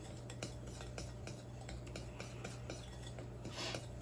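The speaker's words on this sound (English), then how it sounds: "We're gonna mix that all together really good." Crushed cornflakes are stirred together in a bowl, a quiet run of light clinks and scrapes from a utensil against the dish, repeating at an uneven rhythm over a low steady hum.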